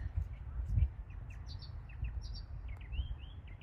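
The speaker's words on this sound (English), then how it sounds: "There's a willy wagtail somewhere in there annoying him." A willy wagtail calling from a tree gives faint, distant, scattered high chirps over a low outdoor rumble.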